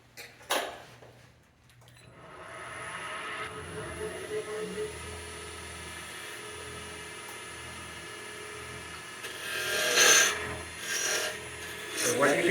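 A hand saw cuts wood for a wig stand in steady back-and-forth strokes, a close rasping rhythm, with a few louder, harsher bursts near the end.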